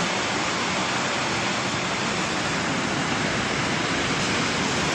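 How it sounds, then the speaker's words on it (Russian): Storm surf of the Black Sea rolling onto Yuzhny 2 beach in Adler, a loud, steady broadband roar of breaking waves filling the whole stretch without pause or voices. "Посмотрите, как красиво играет море."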